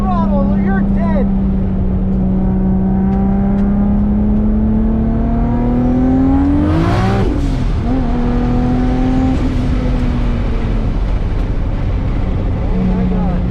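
A racing boat engine at full throttle, a loud, steady, droning roar that holds one pitch, swells briefly midway and then settles again, heard close and continuous throughout.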